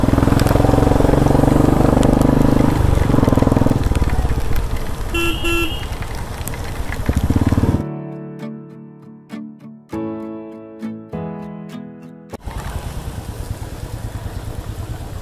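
A modified motorbike is ridden through pouring rain on a road. A loud, steady engine roar mixes with wind and water noise, and a tonal honking passage breaks in midway before the engine and rush return, with no talking.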